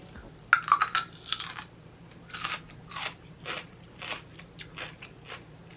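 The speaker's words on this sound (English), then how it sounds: "They're like super crunchy. Listen." A sharp bite followed by a series of crisp, rhythmic crunches as a crunchy snack is chewed close up, with no talking.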